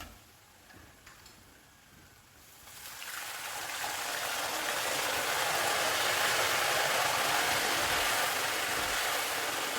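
Salt water is poured into hot oil where banana chips are frying. A quiet stretch gives way to a loud, rushing hiss that swells up and then roars on steadily and close, with no voices.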